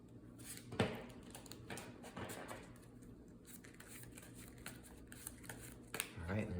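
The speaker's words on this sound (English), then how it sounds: "And then we're gonna shuffle up our deck." Riffled shuffling of a card game deck with crisp bursts of flicking, mixed with soft handling noises and a voice talking over it.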